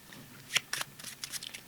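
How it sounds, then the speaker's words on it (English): Playing cards being cut and shuffled by a magician, a quick series of soft riffling and snapping bursts with one sharper flutter near the start, close and quiet with no talking. "I'm gonna cut a little bit and shuffle."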